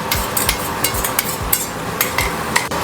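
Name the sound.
sautéing red chili paste with ginger garlic in a pan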